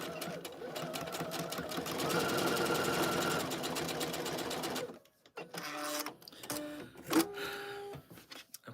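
A sewing machine stitches the ends of a McCall's 8313 garment in a steady, fast mechanical whir for about five seconds, then stops; short bursts of stitching and handling noise follow.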